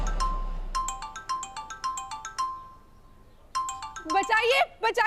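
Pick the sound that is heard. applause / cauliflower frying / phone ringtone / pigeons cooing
phone ringtone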